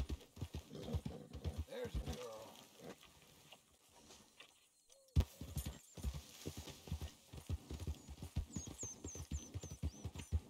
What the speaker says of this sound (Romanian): E să dau ceva să mănânce calul meu.